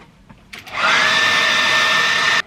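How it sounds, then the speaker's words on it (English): A handheld hairdryer blasts air onto bangs set in Velcro rollers, switching on with a sudden jump to a loud, steady whooshing whine that holds for nearly two seconds before cutting off sharply. "I'm just gonna blast it with a hairdryer."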